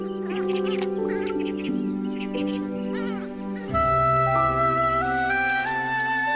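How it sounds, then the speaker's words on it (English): Purple swamphens in a coastal lagoon marsh give nasal, honking calls in short bursts, close and fairly loud, laid over steady sustained tonal sounds that continue throughout. "in the marshes, the most eye-catching are the purple swamp hens"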